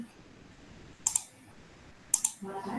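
Two quick pairs of computer mouse clicks, each a sharp double-click, sound over a quiet office background while software for EEG exams is being used; a faint voice comes in near the end.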